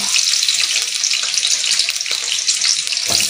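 Potatoes frying in hot oil in a pan, a loud, dense, continuous hiss with a bright spattering texture throughout and no talk.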